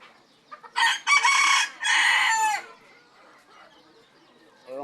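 A bantam chicken, one of a set of sibling birds kept in a pen, crows loudly and close by in one long drawn-out call. Soft clucks and faint background noise come before and after the crow.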